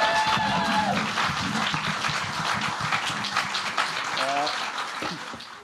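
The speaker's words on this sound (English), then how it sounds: "Give yourselves a round of applause so I'm comfortable." An audience at a stand-up comedy special applauds in a brief burst of clapping that fades over a few seconds, with a performer's voice heard over it.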